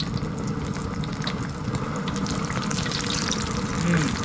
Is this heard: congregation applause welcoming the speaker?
no